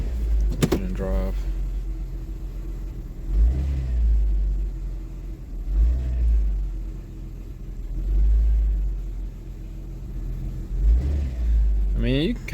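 Kia car engine with a misfire, idling and driving with a low, uneven rumble that swells and surges in repeated pulses, fairly close and steady throughout.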